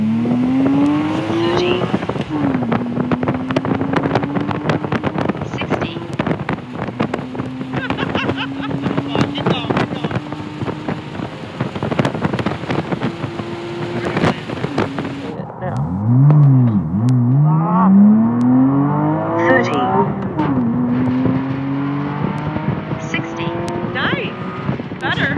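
A 2013 Porsche 981 Boxster with a six-speed manual and loud exhaust accelerating hard through several gear changes, engine pitch climbing, dropping at shifts and climbing again, close and loud with wind noise; a brief voice near the end.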